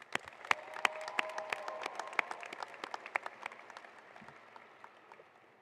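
Graduating high school students clap at a ceremony, a thin scattering of individual claps that swells briefly and then tapers off into a few sparse hand claps.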